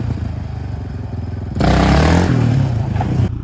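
Yamaha Raptor 700 quad engine idles with a low, pulsing rumble, then surges into a loud rev for about two seconds before dropping back as the rider brakes, close and without talk.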